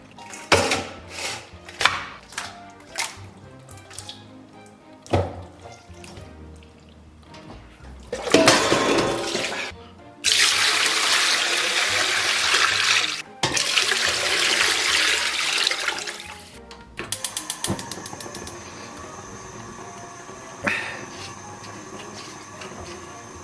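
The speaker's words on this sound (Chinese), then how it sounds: "咱们先把这个肉给它洗一下，然后重新抽水" Tap water runs in bursts while mutton for Inner Mongolian hand-held mutton is washed, with a few sharp knocks and clatters first and then sustained rushing, splashing water.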